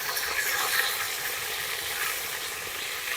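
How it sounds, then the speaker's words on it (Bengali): Pieces of pangas fish fry in hot oil after being turned, making a dense, even, close sizzle that holds steady throughout with no voices. "দেখো তো কত ভালোভাবে ভাজছে"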